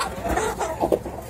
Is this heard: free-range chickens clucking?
yes